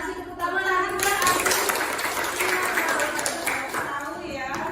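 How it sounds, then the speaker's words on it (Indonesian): A classroom group of children and a teacher breaks into sustained applause, dense and close clapping rising quickly and holding for a few seconds before fading, with speech heard around it. "Kasih tepuk tangan lagi Bu Rai."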